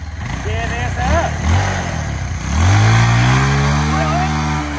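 A motorcycle engine revs up loud and close during an informal bike race on dirt, its pitch climbing and then holding steady, while people talk excitedly over the first half.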